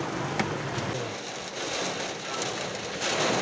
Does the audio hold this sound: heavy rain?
yes